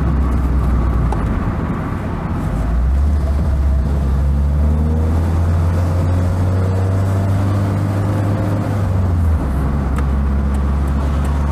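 A small Fiat Seicento's engine drones loudly from inside the car while driving, its pitch rising and falling steadily through gear changes amid road and wind noise, with no talking.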